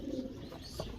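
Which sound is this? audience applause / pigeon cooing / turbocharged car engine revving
pigeon cooing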